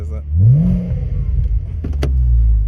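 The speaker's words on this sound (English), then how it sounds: "there's that beautiful exhaust note for you" A Porsche Boxster 3.2 S engine runs with a low, steady exhaust rumble, rising briefly early on, then settling into a deep idle with a couple of sharp clicks near the end.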